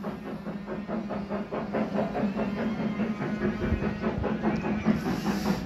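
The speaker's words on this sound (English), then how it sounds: "with the steam train zipping away in the background" A steam train chuffs past in a rhythmic series of hissing puffs, with a clickety-clack of wheels at a moderate distance.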